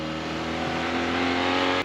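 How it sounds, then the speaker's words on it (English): A Fiat 124 Sport Spider's double overhead cam engine, revived after years of sitting, runs at a steady idle with a close, even hum and faint hiss through a quiet exhaust, uninterrupted and with no voices. "It's got a very unique sound, that double overhead cam engine."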